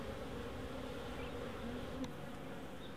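Honey bees newly arrived at an almond orchard in blossom make a steady, dense buzz as they take orientation flights, with a few individual bees passing close over the continuous hum.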